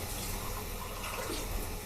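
Water pours steadily into a red wine sauce being made for rose veal sirloin steak, a continuous close splashing stream with no voices.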